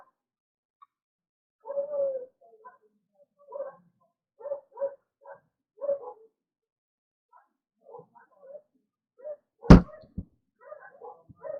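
Indoor dogs howl and whimper in repeated mid-pitched bursts, fairly close, with short gaps and a sharp clatter near the end.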